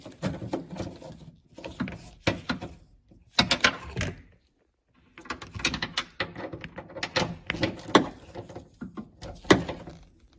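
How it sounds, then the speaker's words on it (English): Ratchet tightening the door mirror bolts on a 2010-2015 Lexus RX350/RX450h to 5 foot-pounds: bursts of close, rapid clicking, pausing between strokes, with a short silent gap midway. "now tighten them to 5 foot-pounds."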